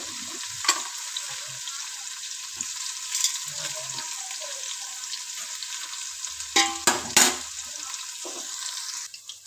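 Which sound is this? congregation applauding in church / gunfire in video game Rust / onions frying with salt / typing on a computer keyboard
onions frying with salt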